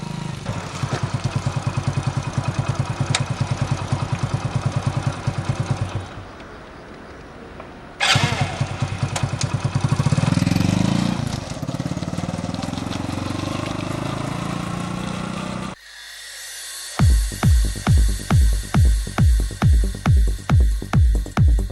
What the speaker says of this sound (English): Just depress the clutch and the starter motor brings the engine back to life.